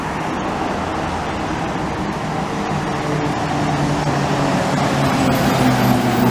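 A Freightliner M2 truck passes on University Street in downtown Montreal, its steady engine rumble blending into a continuous wash of nearby city traffic noise.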